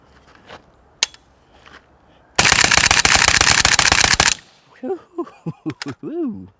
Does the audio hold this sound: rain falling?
no